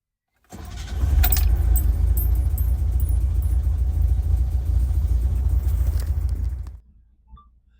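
A 1983 DeLorean DMC-12 with a five-speed manual gearbox, left in neutral, cranks and fires, then idles with a loud, steady rumble for about six seconds before shutting off abruptly.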